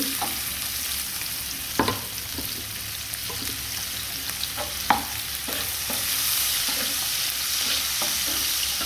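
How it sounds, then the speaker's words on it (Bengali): Onions and green chilies sizzle continuously in hot oil, with a few utensil scrapes and taps over the steady hiss. "পেঁয়াজটা একটু ভাজা হোক।"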